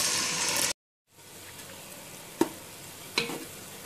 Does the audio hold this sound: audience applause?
no